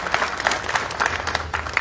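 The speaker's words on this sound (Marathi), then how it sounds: "एकदा टाळ्या वाजवून त्यांचंही अभिनंदन आपण या ठिकाणी." Crowd at a political rally in Indapur applauding, a dense patter of clapping across the whole moment with no voice over it.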